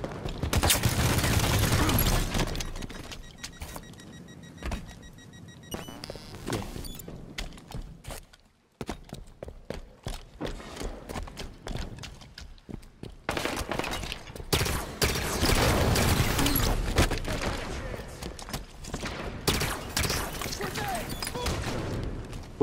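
Automatic gunfire sprays in Halo 5: Guardians online multiplayer, dense bursts of rapid shots that pause and resume across the stretch, with occasional voice chatter mixed in among the game effects.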